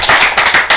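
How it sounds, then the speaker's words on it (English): A few bursts of hand clapping from a small audience at a Reagan Day dinner, with roughly five quick claps or brief clusters, fairly close and loud, over under a second. "Let's give them a round of applause there."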